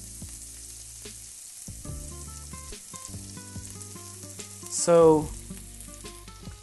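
Finely chopped onions and shallots sauté in a pan with a steady, close sizzle while they are spread out and kept moving, and music plays over it; one brief spoken word.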